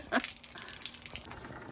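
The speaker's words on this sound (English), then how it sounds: "So Randy's got the shower running in there." A shower runs inside a box truck conversion, making a steady, faint hiss of spraying water from an adjacent room with one brief louder splash near the start.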